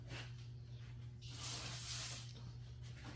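A can of throttle body cleaner sprays onto a folded shop towel in one soft hiss lasting under a second, with quiet room noise around it.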